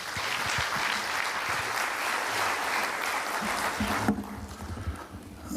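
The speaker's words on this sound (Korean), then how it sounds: "큰 박수로 환영해 주시기 바랍니다" Loud, sustained applause from a church audience at the opening ceremony of a correctional conference, welcoming a lawmaker to the stage; the clapping fades out near the end, leaving quieter room sound.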